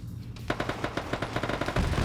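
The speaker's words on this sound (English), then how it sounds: "Autocannon firing on some high-rises." Rapid autocannon fire in a video game, about a dozen evenly spaced heavy thumps in a steady rhythm against a low rumbling background, loud and close with no voices.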